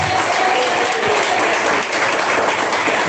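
A church congregation claps in a dense, steady burst of applause, loud and continuous throughout with a brief dip midway, no voices standing out.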